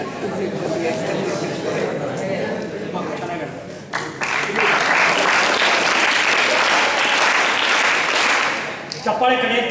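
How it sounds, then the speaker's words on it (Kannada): An evening audience at a talk breaks into applause, starting as lighter scattered clapping, then swelling into a loud, full round for several seconds before tapering off at the end, with some crowd chatter mixed in. "ನಿಮಗೆ ಇವತ್ತೊಂದು ಚಪ್ಪಾಳೆ ಚೆನ್ನಾಗಿ ತಟ್ಟಿದ್ದೀರಾ, ಭಾಳ ಸಂತೋಷ ಆಯಿತು"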